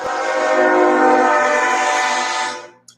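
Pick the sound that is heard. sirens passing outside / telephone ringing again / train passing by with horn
train passing by with horn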